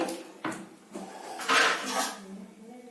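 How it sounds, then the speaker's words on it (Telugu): A metal plate and a stone are set on chillies soaking in buttermilk, producing a few close clinks and knocks at uneven intervals, with soft kitchen handling noise between them. "పళ్ళెం పెట్టి రాయి పెడుతున్నాను."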